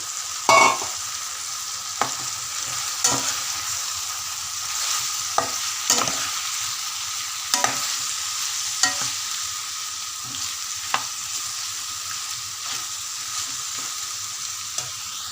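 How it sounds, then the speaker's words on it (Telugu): Fried bitter gourd pieces being stirred with turmeric in a pan, a steady oily sizzle with repeated sharp spatula scrapes and taps against the pan, close and alone without talk. "ఫ్రై చేసి పక్కన పెట్టిన కాకరకాయ ముక్కలు కూడా వేసి బాగా కలపాలి"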